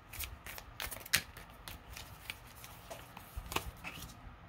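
Tarot cards riffle and slap together in quick bursts close to the microphone, a few separate shuffles in a quiet room with no speech.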